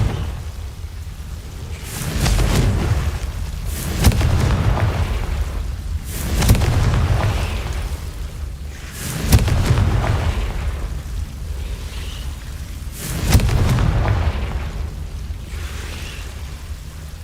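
Confringo fire spells cast in the video game Hogwarts Legacy, heard as five loud booming blasts spaced a few seconds apart over a steady low rumble of game ambience.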